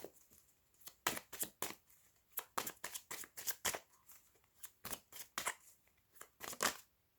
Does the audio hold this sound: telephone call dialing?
no